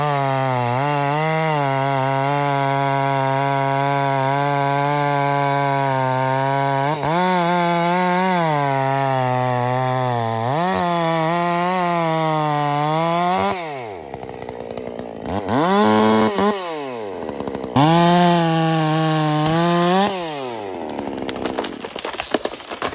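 MS460 clone chainsaw felling trees, the engine holding a loud steady whine with several rises and dips in revs, then bogging and sputtering unevenly near the end.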